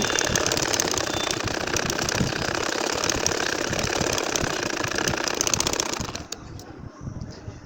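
A sewing machine runs fast and steady while stitching a nakshi kantha quilt, a dense continuous mechanical rattle that cuts off abruptly near the end, leaving faint rustling.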